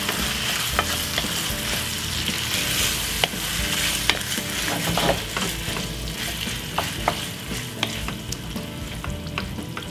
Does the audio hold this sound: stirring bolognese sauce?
yes